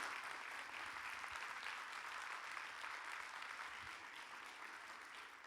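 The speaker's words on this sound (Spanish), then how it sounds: "¿Por qué no das un fuerte aplauso a nuestro Dios?" Church congregation applauding during a Spanish-language sermon, a steady dense wash of clapping that holds evenly at moderate distance for several seconds with no voices rising above it.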